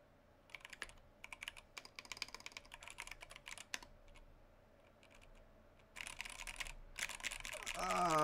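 Typing bursts on a Jupiter 75 keyboard in a black case, a dense run of clacky keystrokes in irregular clusters with pauses between, close and fairly quiet, getting louder and faster near the end over faint background noise.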